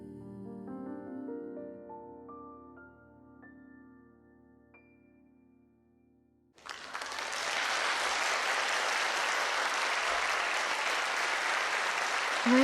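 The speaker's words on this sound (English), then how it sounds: "A wave of applause washes over us." Applause in a visual novel game erupts suddenly as a sustained, dense crowd clapping in a concert hall, following fading piano notes, and continues loud and steady to the end.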